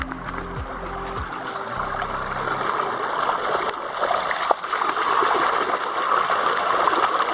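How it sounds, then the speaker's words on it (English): A small stream flowing toward the Emerald Pool in Krabi, Thailand, a steady rushing trickle of fresh water close by, continuous and moderately loud, with a brief low engine-like hum at the start. "You can see the small stream going to the emerald pool, which giving the water to the emerald pool."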